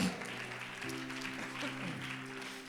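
Church congregation clapping during a Tamil Christian service, a sustained scatter of hands heard over a held musical tone, at a moderate distance.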